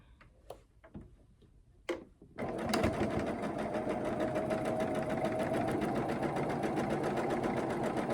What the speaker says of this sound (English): And now I'm going to sew it from the other side.